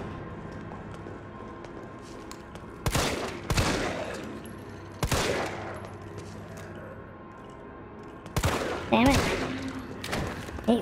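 Scattered gunshots in Resident Evil 3 Remake, sharp loud cracks fired singly and in quick pairs with quieter gaps of ambient game noise between them.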